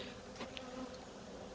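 Honey bees from a healthy colony hum steadily around their hive entrance outdoors, a continuous low drone with individual bees buzzing close past now and then.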